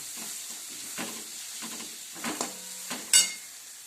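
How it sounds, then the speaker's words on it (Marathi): Masala paste with red chili powder is sautéed for a village-style matki curry, a soft hiss of frying under a few stirring scrapes and clinks, growing briefly louder near the end. "छान असं वाटण परतून घ्यायचं"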